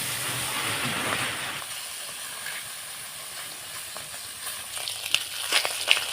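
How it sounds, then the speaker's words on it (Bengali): Tengra fish fry in very hot oil in a heated wok, a steady close hiss and sizzle that eases slightly, with a few sharp crackles near the end. "তেলটা গরম হয়ে গেছে এবারে মাছগুলো দিয়ে দিচ্ছি"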